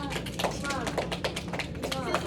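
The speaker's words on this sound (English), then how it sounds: "everyone give yourselves a round of applause" Children in a classroom clap together, a continuous patter of quick overlapping hand claps for a couple of seconds, with chatter mixed in.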